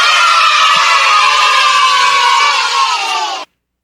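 A large crowd of children cheering and shouting together, loud and continuous for about three and a half seconds before cutting off abruptly, with no talking over it.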